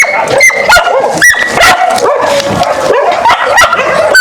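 A dog yips and barks in quick repeated bursts, close and loud, with whimpering tones between the barks and a busy outdoor background.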